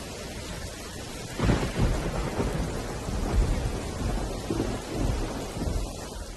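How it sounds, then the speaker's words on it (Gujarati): A thunderstorm with heavy rain in Rajula, Amreli: steady rain hiss runs throughout while deep thunder rumbles roll in from about a second and a half and swell in several waves, loud and near. "અમરેલીના રાજુલામાં બે કલાકમાં બે ઇંચ વરસાદ ખાબક્યો"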